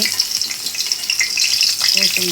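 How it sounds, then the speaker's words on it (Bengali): Chopped onion and garlic fry in hot oil in a wok on a stove, with a loud, close, continuous sizzle and crackle and brief stirring scrapes toward the end. "রসুন কেটে দিয়ে এটা আমি ভালো করে ভেজে নেব"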